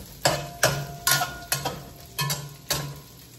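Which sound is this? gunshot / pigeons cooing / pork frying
pork frying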